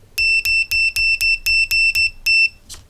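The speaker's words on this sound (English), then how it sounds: "take a look how fast is the continuity" An ANENG SZ02 multimeter on continuity test gives nine short, evenly spaced shrill beeps close by, each sustained briefly with clean tonal harmonics, then a soft trailing click.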